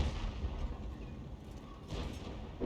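A Tiger (P) tank cannon fires a round in World of Tanks, a quiet, muffled boom with a short rumbling tail, set under low battlefield ambience.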